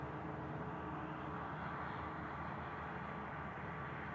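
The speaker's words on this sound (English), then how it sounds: "these Eastern Airways ATR lining up" An Eastern Airways ATR turboprop lines up at Manchester Airport, heard as a steady, distant engine drone with broad rumble and hiss, constant and unbroken throughout.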